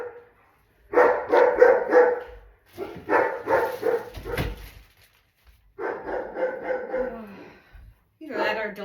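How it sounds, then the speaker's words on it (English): A neighbor's dog barks in repeated bursts of several quick woofs separated by short pauses, fairly close and loud, with a brief whimper between bursts and a voice talking in between. "Probably the neighbor's dog."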